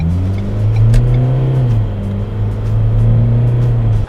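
A Ford Endeavour engine hums and revs steadily as the vehicle accelerates along a road, the drone loud and close throughout.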